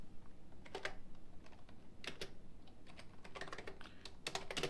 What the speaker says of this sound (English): I'm going to come over to my Mac and I'm going to start typing.